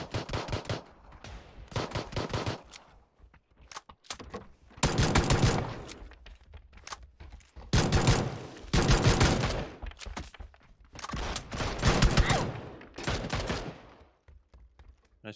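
Gunfire from the video game PUBG comes in repeated bursts of rapid automatic shots, loud and close, separated by short pauses.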